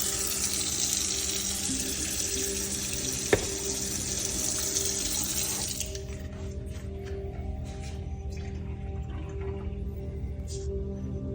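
A kitchen faucet runs in a steady hiss of water, loud and continuous at first, with a single sharp tap partway through, then the flow quiets to a softer, thinner trickle over low background hum.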